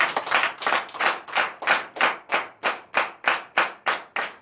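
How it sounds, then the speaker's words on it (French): A church congregation at a Sunday worship service in Comè, Benin, claps in unison in a steady, even rhythm of about three loud, sharp claps per second, sustained for several seconds with no talking. "Donne l'acclamation à Jésus"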